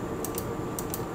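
Keys pressed on an Amstrad CPC keyboard during The Young Ones game: four quick, light clicks in two pairs, close and fairly quiet over a steady low background hum.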